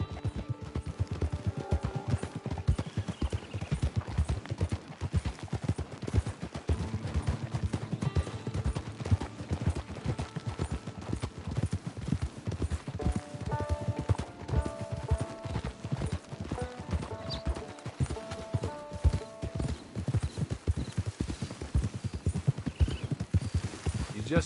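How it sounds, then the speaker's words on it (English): Horse hooves clip-clop steadily and up close in the Western video game Red Dead Redemption, a repeated rhythmic beat that runs the whole way through over game music and ambience, with a brief whinny. "It's your horse."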